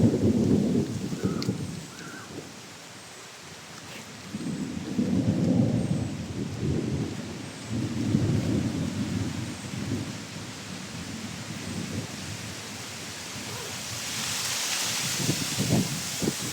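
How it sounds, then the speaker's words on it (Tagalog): Steady rain falls with a soft hiss while heavy rolls of thunder rumble repeatedly in the distance. "Ayun, umulan na mga idol. Umulan na talaga."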